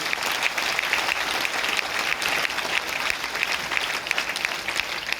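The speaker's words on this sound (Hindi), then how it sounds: "एक जोरदार ताली सर के।" Loud, sustained applause from a large audience at a recognition-night gala in Ranchi, dense steady clapping filling the hall without a break.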